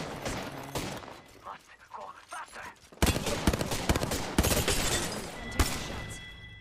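Gunfire in Apex Legends comes as rapid overlapping shots with sharp cracks and dense bursts, loud and close, with a player talking over the start.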